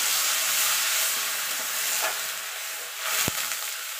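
Spice paste of turmeric and Kashmiri chili with a splash of water frying in oil for an eggplant and hilsa curry, a steady close hiss and sizzle with a brief clink of stirring near the end.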